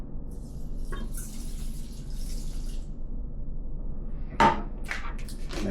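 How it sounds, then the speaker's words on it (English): Water is poured into a rice cooker over rice and beans, a steady soft rushing that runs through the clip, with one brief sharper splash or knock near the end. "now we add 1 cup of water"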